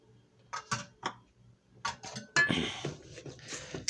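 Oatmeal and milk being mixed in a bowl, irregular scraping and clinking of a utensil against the bowl, close by, building to a busier burst of stirring near the end.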